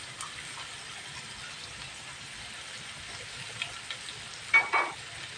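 Eggplant fries in a pan with tamarind, giving a soft, steady sizzle and crackle throughout, with a couple of brief louder stirring clatters near the end.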